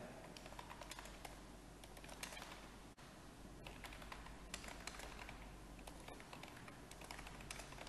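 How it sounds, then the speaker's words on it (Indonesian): Steady, continuous clatter of fingers typing a paragraph on a computer keyboard, close and even throughout with dense rapid keystrokes and a brief pause near the middle, no voices. "Saya sudah berusaha mengetik satu paragraf."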